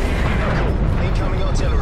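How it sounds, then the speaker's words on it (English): Artillery strike in Black Ops Cold War, heard as a dense, loud, continuous rumble of blasts and explosions filling the scene with no gaps, close and heavy. "Hostile artillery targeting active."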